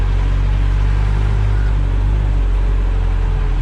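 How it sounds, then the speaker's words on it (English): A Mahindra Maxi Cab school van on the move, its engine giving a loud, steady low drone with road rumble, constant and close, with no talking. "Sorry kids, this is a fast van drive today."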